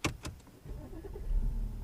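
A 2008 Audi A4 2.7 TDI diesel cranking over on the key, with two quick starter bursts followed by the engine catching into a low, steady idle rumble that grows slightly louder, heard close up from inside the cabin.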